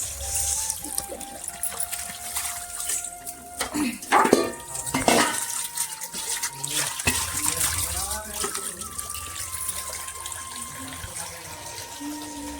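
Water splashes and trickles into a container with clinks of dishes and a few indistinct voices nearby, the pouring uneven and moderately loud.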